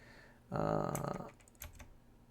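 Quick keystrokes clatter on a computer keyboard in a short, soft burst, close by in a quiet room, followed by a few scattered taps.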